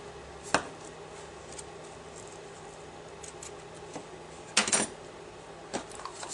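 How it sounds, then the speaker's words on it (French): Scissors snip the edge of a ribbon on a red baroque wedding invitation card: a few faint, brief cuts spaced apart, with a slightly longer crisp snip near the end, in a quiet room. "Ici, je coupe un petit peu le bord."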